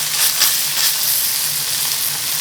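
Cumin lamb and aromatics stir-fried in a home wok give a loud, steady sizzle with bright hissing, broken by quick scraping stirs.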